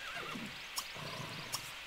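Horses in The Sims 3 give two short whinnies, a second or so apart, over a soft steady background of game ambience, with no talking.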